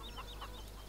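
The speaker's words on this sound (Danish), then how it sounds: "Jeg kan også høre nogle høns her." Chickens clucking in Farming Simulator 2017, a few soft, scattered clucks over a steady low farm ambience hum, with no talking.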